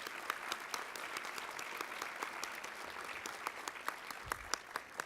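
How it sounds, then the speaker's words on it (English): A large conference audience at a convention center opening session applauds steadily, the dense clapping sustained throughout with sharper individual claps standing out near the end. "I'd like to give them another applause"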